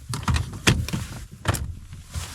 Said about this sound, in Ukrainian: Оп, двері відчинилися